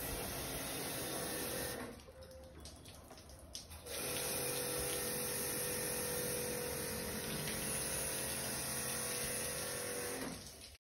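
A pressure water jet hums steadily while washing an AC outdoor unit during cleaning. The spray cuts out briefly near the start and then resumes, close up and continuous.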